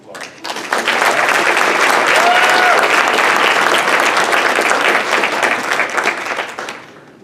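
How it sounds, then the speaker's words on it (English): An audience at a school awards night bursts into dense, sustained applause that swells quickly, holds steady for several seconds and then fades, with a faint voice beneath it. "Let's give them a round of applause."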